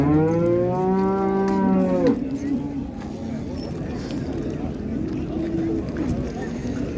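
Cattle at the Karshi Karvon livestock bazaar give one long, loud, close moo over the first two seconds, followed by a steady murmur of crowd and market noise.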